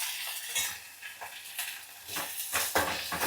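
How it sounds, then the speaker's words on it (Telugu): Curry leaves and tomatoes fry in a hot pan as the tempering for rasam, with close, crackling sizzles and several scraping stirs swelling and fading over a few seconds. "ఇది కొంచెం వేగనిద్దాం. చూడండి కరివేపాకు, టమాటాలు"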